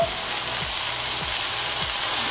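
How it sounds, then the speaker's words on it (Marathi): Red amaranth leaves stir-fry in a hot pan with a steady soft sizzle and hiss, while the spatula scrapes through the greens with a few faint, regular strokes. "भाजीला परतूया"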